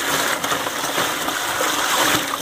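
Water gushes steadily into a large tub set out for washing dishes, a continuous broadband splashing pour that stays close and loud throughout with no talking.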